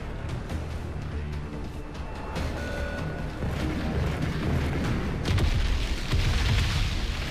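Explosions in the video game Crysis 3 rumble and boom continuously, a loud, dense low roar with heavy blasts swelling louder toward the end and no speech over it.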